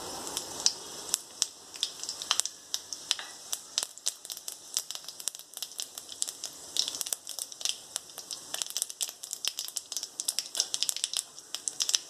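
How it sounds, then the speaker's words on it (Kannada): Mustard seeds and cumin pop and crackle in hot oil in a pan, a dense run of sharp close spatters over a soft sizzle, with no voices. "ಈಗ ಅದಕ್ಕೆ ಎಣ್ಣೆ ಬಿಸಿ ಆಗಿದ ತಕ್ಷಣ ಸಾಸಿವೆ, ಜೀರಿಗೆ ಹಾಕೋಣ"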